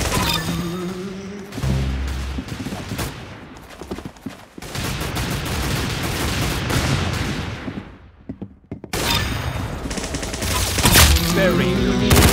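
Gunfire in the Arsenal video game: repeated loud shots and bursts fill the stretch, with brief dips, while players talk over the action.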